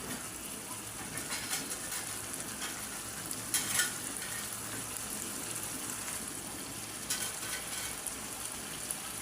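Eggs fry in a spiced masala, giving a faint continuous hiss of sizzling oil with a couple of slightly louder bubbling surges.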